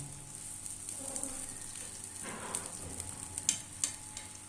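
Makai mooli paratha, a corn and radish flatbread, frying in ghee on a griddle: a soft, steady sizzle close by with faint crackles and a few sharper pops toward the end.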